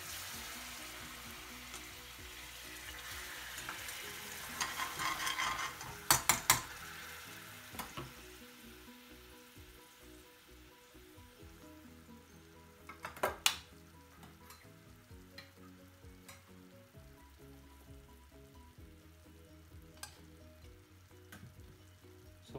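Base gravy sizzles in ghee for chicken tikka masala, a loud spitting burst early on that settles into a quieter simmering crackle, with occasional sharp clatters and stirs over a low background hum.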